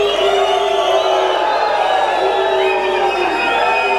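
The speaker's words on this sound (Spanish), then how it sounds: "venga, fuerte el aplauso" A large crowd at a bull riding contest roars and cheers loudly and continuously, a dense wash of voices and whoops with no gaps.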